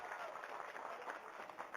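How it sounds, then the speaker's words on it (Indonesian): Audience applause at a large Isra Mi'raj religious gathering, a faint, continuous, distant patter of many hands clapping with crowd murmur and no distinct individual claps. "tepuk tangan dulu buat Pak Banser"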